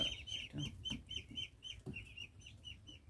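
Chickens cluck on a small backyard mini farm in the afternoon, with steady, busy overlapping clucks and soft chirpy calls close by, no talking.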